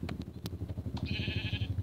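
Sheep bleating in the video game Minecraft Pocket Edition: a sustained, fairly loud bleat in the second half, preceded by short clicks and steady low game background rumble.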